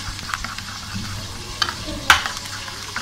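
A chicken mixture for biryani pulao, thinned with a little water, is stirred in the pan with a soft sizzle underneath and a few sharp scrapes of the spoon, the loudest about two-thirds through.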